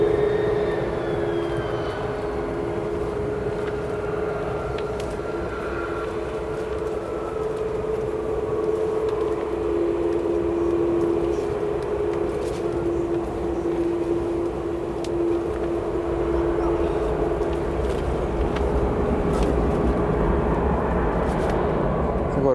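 Jet airliners taxiing at Chicago O'Hare Airport, including an American Airlines Boeing 737, give off a continuous distant engine whine and rumble, with a voice speaking over them.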